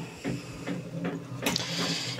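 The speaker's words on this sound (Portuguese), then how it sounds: "Enquanto a impressora está imprimindo aqui os mimos" An inkjet-style printer runs a job in a small home craft workshop, giving a steady mechanical whir with rhythmic carriage passes and a louder burst of feed noise near the end.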